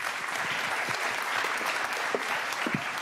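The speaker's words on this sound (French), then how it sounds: "on vous applaudit encore bien fort" Audience applause at a road safety innovation award ceremony, a steady dense wash of many hands clapping throughout, with a few louder individual claps near the end.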